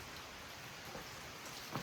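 Steady rain falls at an Appalachian Trail shelter on a cold May morning, a faint, even hiss of drops with no voices and only a slight rise near the end.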